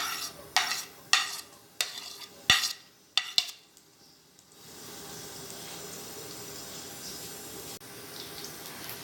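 Onions added to a hot pan for palak gosht: several sharp taps and clatters come first, then a steady, even sizzle rises and holds as they start to cook.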